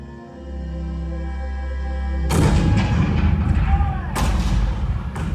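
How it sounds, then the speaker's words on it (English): Cannon fire at Fort Sumter booms out in a loud burst, heavy rumbling blasts that come after a low sustained tone. A second sharp report follows a couple of seconds later, and the rumble carries on behind it. "The cannon spoke for war."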